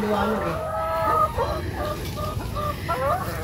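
Rhode Island hens cluck on a farm in Paete, Laguna, giving a busy run of short, close clucks and murmurs with people talking over them.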